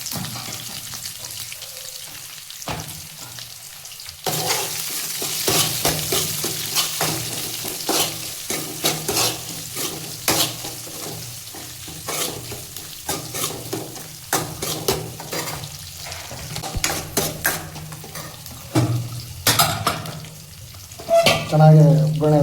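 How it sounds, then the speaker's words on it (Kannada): Sliced onion and curry leaves sizzle in hot oil for an Andhra-style pappu tempering, a steady crackling fry with spatula stirring and scraping against the pan, close and without talk. "ಚೆನ್ನಾಗಿ ಎಲ್ಲ ರೋಸ್ಟ್ ಆದಮೇಲೆ ಈ ಕಡೆ ಹಾಕ್ಕೊಂಡಿರೋ ಒಂದು ಆನಿಯನ್ ಸ್ವಲ್ಪ ಕರಿಬೇವು ಸೊಪ್ಪು."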